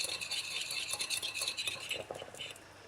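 A drop of peppermint essential oil being stirred into homemade chocolate mint lip balm, with light clinking and scraping of a utensil against a small container, steady and close throughout.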